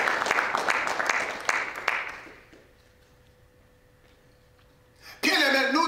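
A church congregation applauds in praise of the Lord: dense, sustained clapping for about two seconds that fades into near silence, then a voice rises abruptly at the end.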